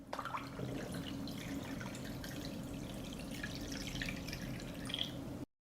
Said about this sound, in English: I pour water up to the height of the lid.